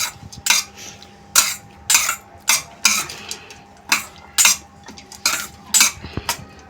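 A spoon mixing American corn bhel with squeezed lemon juice in a bowl, with about ten rhythmic clinking, scraping strokes against the bowl, close and clear.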